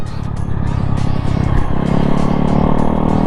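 A homemade stand-up scooter fitted with a Yamaha Mio engine roars loudly and continuously close by as it is ridden, the engine note shifting lower partway through.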